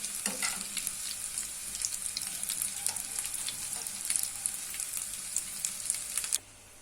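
Steady, crackling sizzle of cauliflower frying in hot oil, close and continuous with sharp pops, cutting off abruptly near the end.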